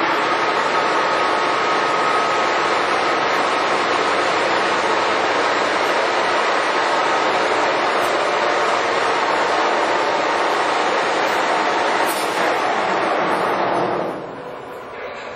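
Giddings & Lewis 340T horizontal boring mill with its spindle running at 1000 RPM, a loud continuous whirring machine drone with a faint steady whine that tapers off at the end.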